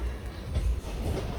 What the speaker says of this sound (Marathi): वैतरणा स्टेशनला 2 मिनटंच थांबली होती ट्रेन आणि आता इथून निघाली आहे ट्रेन